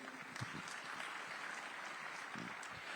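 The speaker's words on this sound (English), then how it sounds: "Big round of applause for him, please" Summit audience gives a round of applause for a minister at a conference session, a soft, distant, even wash of clapping lasting a few seconds.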